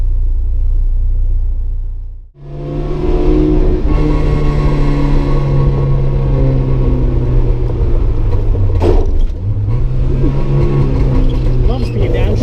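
A Lada 2104 wagon's engine revs hard and loud, rising and falling in pitch through aggressive downshifts, with a brief dip near the start and a gear change partway through, under occasional talk.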